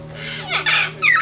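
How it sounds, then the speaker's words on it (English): Imperial Amazon parrot in the Dominica forest giving a loud, high, squeaky call, a rising shriek followed by a harsh squawk and trill in quick succession, close and clear. "The call of the Cicero resides in the higher frequencies, a loud and even squeaky mix between shriek,"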